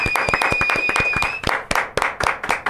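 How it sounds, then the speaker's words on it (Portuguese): An audience claps for an arriving guest on a Brazilian talk show, a burst of close, sharp, uneven handclaps over a short tone, thinning into separate louder claps toward the end. "Uma salva de palmas para o grande Busnello."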